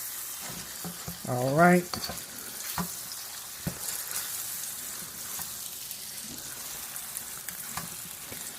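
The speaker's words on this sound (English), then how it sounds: "So I'm going to finish searing this off" Beef searing in a hot pan for beef and broccoli, a steady close sizzle and crackle throughout with occasional stirring scrapes; a voice speaks briefly near the start.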